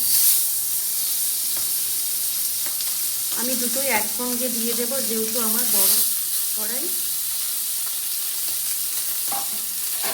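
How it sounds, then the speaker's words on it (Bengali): Pomfret fish frying in a little oil in a wok for a tandoori dish: a continuous close sizzle and hiss, with someone speaking briefly over it partway through. "আমি এই পমফ্রেট মাছটা বসাচ্ছি।"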